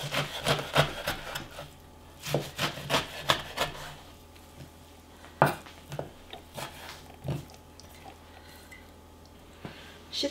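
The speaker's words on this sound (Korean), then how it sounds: "알맞게 이제 썰어줍니다." A knife chops dried radish greens on a wooden cutting board in uneven bursts of sharp taps with short pauses, heard close and quiet with no talking.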